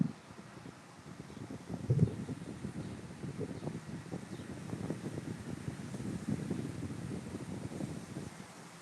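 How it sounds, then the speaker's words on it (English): Steady wind buffeting a microphone, a continuous low rumbling roar with gusty swells, no voices. "We're a little windy here, which is interesting, but it's like blowing hot wind."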